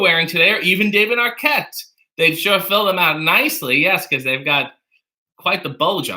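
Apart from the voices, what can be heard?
No everyday noise stands out behind the speech.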